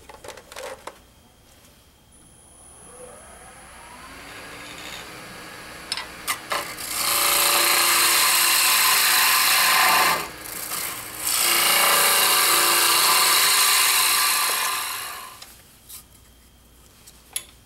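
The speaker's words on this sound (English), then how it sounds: "So I'm going to continue using the bowl gouge to make a bowl." A bowl gouge hollows out a wood Roman flask on a lathe, giving a loud, sustained rasping hiss that runs for several seconds, breaks off briefly and resumes before stopping. Fainter scrapes and taps come before and after.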